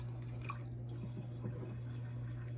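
Filtered water from a reverse osmosis filter runs and drips into a measuring cup in a kitchen, a close, soft trickle with scattered drips over a steady low hum, ending in a sharp knock.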